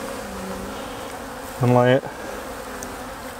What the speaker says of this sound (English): I can see there are seams of bees down here